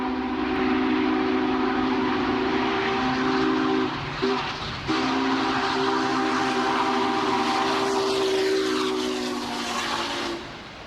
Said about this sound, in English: The locomotive was operating magnificently as it charged through Big Springs, Nebraska on the final leg of its journey home